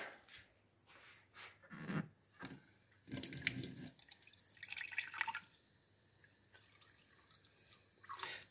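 Tap water runs from a faucet into drinking glasses in a kitchen, with splashing bursts and drips in several separate pours, moderately close and with no talk.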